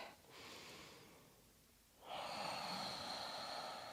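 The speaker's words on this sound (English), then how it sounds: "Breathing deeply." Slow, deep breathing during a yoga stretch, heard close and soft: a gentle inhale, a pause, then a fuller, airier breath.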